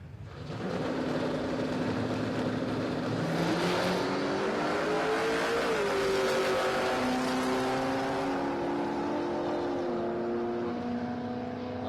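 Drag race cars, an Opel Monza and a wagon, accelerating hard at a raceway, a loud sustained engine roar climbing in pitch through gear changes, heard from close by.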